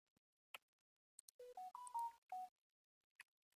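Several short electronic phone beeps ring out in a quiet room: an isolated blip, then a quick run of tonal notes stepping up and down in pitch, followed by a couple of faint clicks.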